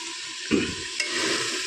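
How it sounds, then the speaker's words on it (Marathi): Chicken sizzles in a pan, with a couple of sharp stirring scrapes over a continuous hissing fry; no voices. "हे चिकन परतूया आपण"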